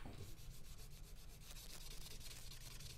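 Knife blade being rubbed with 400 grit emery to reveal an etched logo under carbonization, a faint, steady, close scratchy rubbing of quick back-and-forth strokes with no talk.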